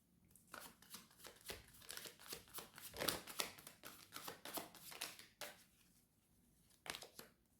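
Tarot cards being shuffled by hand, a run of quick crisp riffling bursts in a quiet room, faint and close, with a brief pause before a final couple of shuffles.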